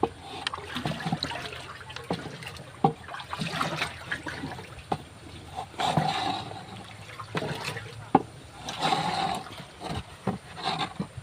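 Liquid organic fertilizer mixture is stirred in a container, giving continuous sloshing, swirling water sounds with splashy surges at moderate loudness throughout.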